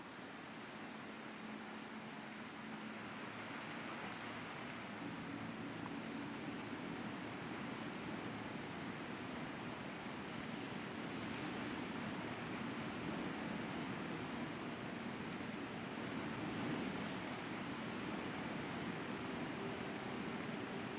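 River water in the video game Alan Wake rushes in a steady, broadband wash, even and unbroken throughout with no voices over it.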